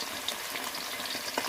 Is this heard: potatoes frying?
yes